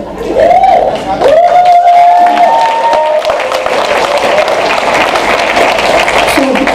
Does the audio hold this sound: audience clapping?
yes